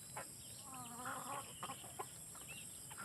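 A rooster clucks and calls a few times in short bursts, fairly close, over steady background hiss and faint outdoor noise.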